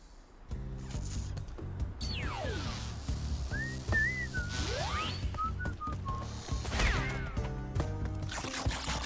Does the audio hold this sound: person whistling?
yes